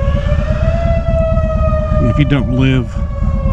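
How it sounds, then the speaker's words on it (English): A tornado siren test wails steadily as one long, loud, slowly falling tone heard from outdoors, with someone speaking over it near the end. "Pretty sure that's tornado siren test."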